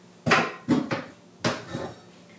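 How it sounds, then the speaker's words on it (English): A spoon knocks against a cooking pot while vegetables are stirred in, producing three separate bursts of clattering metal clanks, close and fairly loud. "And I'm going to give that a stir again."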